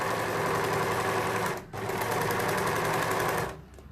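An overlocker stitches a rolled hem on fabric with a fast, even mechanical whirr. It pauses briefly, runs again steadily and then stops, heard close up.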